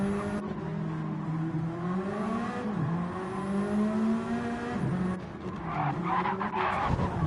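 A race car in a sim racing game slides and skids with sustained tire squeal over a droning engine, the pitch wavering as it twitches and is caught, close and continuous.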